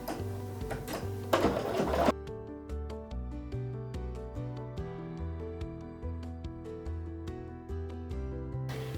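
A sewing machine stitches a quilt seam on a long pieced strip, with a steady, rapid mechanical hum and tick running continuously at close range.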